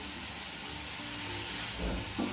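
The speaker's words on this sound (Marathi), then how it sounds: "कांद्याची पात टाकून देऊ आणि परत एक वेळा हलवून घेऊ" Capsicum and spring onion greens sizzle in a pan as they are stirred, a steady close frying hiss with a few soft scrapes near the end and no talk.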